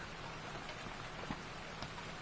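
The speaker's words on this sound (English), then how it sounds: "Yep, it's already raining." Rain falls steadily in the Farming Simulator 19 video game, a dense, even wash of hiss with a few faint drip ticks, continuous and unbroken throughout.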